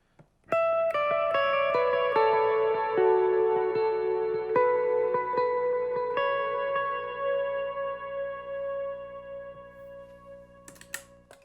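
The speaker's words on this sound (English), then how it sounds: "So when I turn on my verb and delay, I'm also going to add a slight amount of vibrato to it." Electric guitar melody line soaked in reverb and delay with slight vibrato, sustained notes ringing on over repeated echoes, loud and close, in a worship song tutorial.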